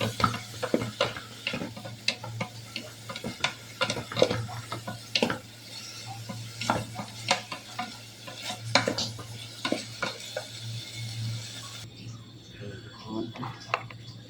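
Eel pieces cooking in a curry in a pan, with a constant low sizzle under repeated sharp scrapes and clinks of a utensil stirring against the pan, and a voice speaking now and then.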